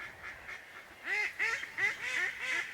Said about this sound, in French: les canards qui faisaient toujours autant de bruit